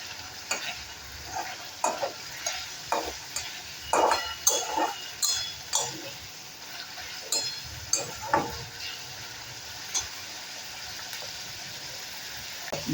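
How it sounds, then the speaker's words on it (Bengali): A spatula keeps stirring jhinge posto, ridge gourd cooked with poppy seed, in a pan: a soft steady sizzle broken by irregular scrapes and clinks against the metal, close and moderately loud, with no voices. "এখন কিন্তু একটু নেড়ে চেড়ে আমি এই ঝিঙে পোস্তটাকে নামিয়ে নেব।"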